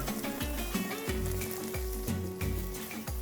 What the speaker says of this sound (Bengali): লো ফ্লেমে সব কিছুকে একটু ভালো করে নেড়ে চেড়ে নেব